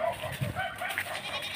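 Goats kept on a farm bleat in a short, close, wavering call under a noisy outdoor background at midday.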